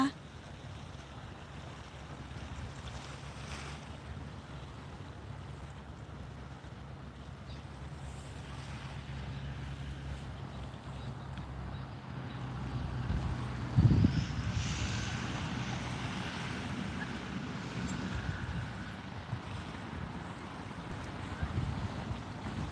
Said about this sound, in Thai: ฟังเสียงคลื่นไปพร้อมๆกันนะคะ เสียงคลื่นค่ะวันนี้คลื่นลมแรงนะคะ